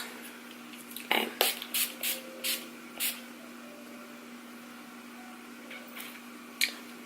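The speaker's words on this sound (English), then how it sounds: "I'm going to apply the setting spray. It's the Dewy Finish setting spray from NYX." Several quick bursts of NYX Dewy Finish setting spray misted from a pump bottle onto a made-up face, a rapid run of short hisses followed by a single later puff, close and fairly clear over a quiet room hum.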